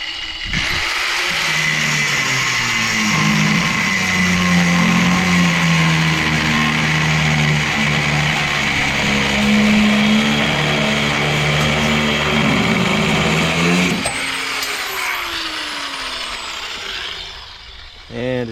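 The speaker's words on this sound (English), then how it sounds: "To do that, I got my angle grinder." An angle grinder cuts through the excess drive shaft of an air reel fan, a loud, sustained metallic whine with a wavering pitch that runs for about fourteen seconds, then stops as the disc spins down.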